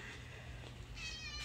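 A cat meows once, close and clear, in a quiet indoor room.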